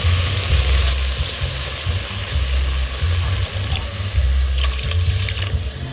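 Water pours into a frying field rat stir-fry, a steady rushing gush over sizzling in the pan, close and continuous.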